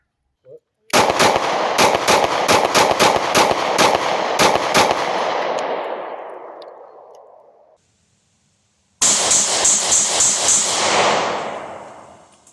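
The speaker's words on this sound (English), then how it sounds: "When you look at the comparison of when I shoot a 9mm, like here." A 9mm handgun fired in a rapid string of sharp, loud shots with echoing decay for several seconds, then a short pause before a second quick burst of shots.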